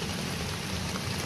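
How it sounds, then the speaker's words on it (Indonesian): Rain coming down over a village, a steady, even hiss of falling drops that holds level from start to finish, with no voices over it. "Jadi karena hari ini hujan"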